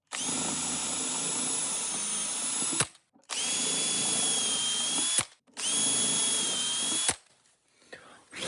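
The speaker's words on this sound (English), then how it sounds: "you basically turn the drill on, and then you plunge it to the correct depth" A power drill whines loudly boring holes into plywood in three long bursts, each stopping abruptly with short pauses between, up close with no talking.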